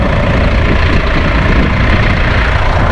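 A farm tractor engine runs steadily at close range, a loud, constant low rumble with no change in pace and no speech.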